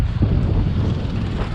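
Strong gusty wind ahead of rain buffeting the microphone on an old bridge in Mattancherry, Kochi, a loud continuous low roar and rumble throughout with no talk.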